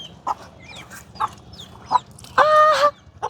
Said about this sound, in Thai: ลูกเป็ดผู้ใด